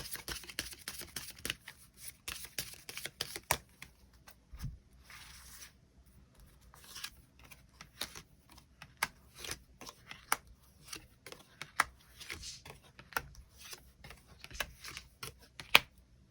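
Tarot cards being shuffled and drawn, with rapid close riffling flutters in bursts, then scattered soft slaps and snaps as individual cards are pulled and laid down, quiet and with no voice.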